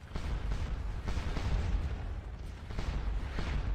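An artillery battery fires repeatedly in the video game Scourge of War Waterloo, with deep booms and rumbling blasts rolling one after another at an uneven pace, heavy and sustained with no voices.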